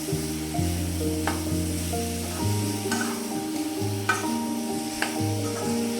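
Tomato masala sizzling in a pan as it is stirred, a soft frying hiss with occasional scraping strokes, set against steady melodic background music.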